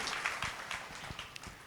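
An Easter Vigil Mass congregation at a Catholic church in Lahore claps in a short, fairly thin burst of applause with scattered distinct hand claps, alone without talk.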